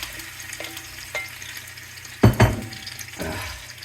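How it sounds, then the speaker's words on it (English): Meat for tamales hitting a hot pan with a little oil, giving bursts of sizzling and a couple of louder clattering thumps, with scattered clinks and frying noise throughout. "The pan is hot. There's a little bit of oil. And I'm just going to braise the meat."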